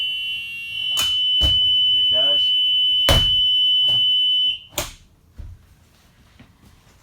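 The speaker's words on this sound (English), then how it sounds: "On our way back up, we're going to check the side window. Make sure the alarm works on the window." A school bus emergency side window alarm sounds a loud, steady high-pitched buzz for several seconds, with clunks from the window being handled, then cuts off to a few knocks and a brief spoken remark.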